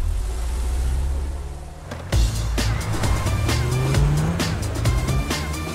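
Cartoon car sound effect of an auto revving and speeding off, with a squealing tire and a rising engine whine after a short hush, followed by clattering bangs and skids, loud and close.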